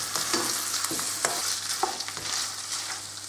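Two chicken breasts, about 300–350 grams, are stir-fried in a pan, giving a loud, continuous sizzle broken by repeated scraping and tossing as they are stirred. There is no talking.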